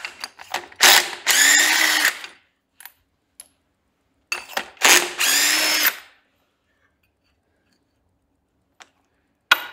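A power tool pulls spark plugs out of a rusty engine in two loud, close whirring bursts of about a second each, separated by quiet, with faint metallic clicks between them.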